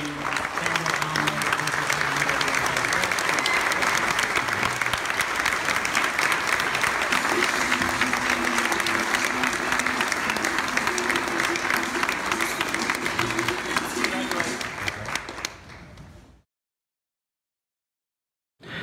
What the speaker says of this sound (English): I would like for you all to join me in giving them a big round of applause